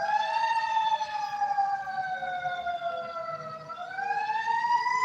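Emergency vehicle sirens outside in the street, a loud wailing tone sweeping slowly down then rising again, layered with harmonics, continuous for several seconds over a low traffic rumble.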